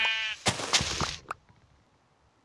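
Goat in the Minecraft pocket edition game bleats in a loud, quavering call lasting about a second, followed by a short thump and quiet background.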